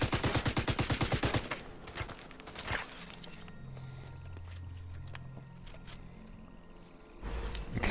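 A rapid, evenly spaced burst of automatic gunfire from The Division 2 rattles loudly for about a second and a half. A quieter low rumble of game ambience follows, and another sharp burst of shots comes near the end.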